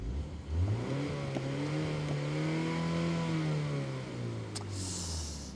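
A 2024 MINI Countryman JCW engine, 300 hp, revs up, holds a droning rising pitch, then eases back down, close and steady, with a brief hiss at the end.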